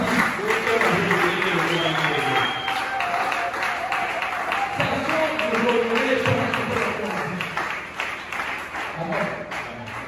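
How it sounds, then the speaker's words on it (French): A church congregation applauds with sustained, dense clapping that stays steady throughout, mixed with voices. "Acclamez bien, c'est donner la vie"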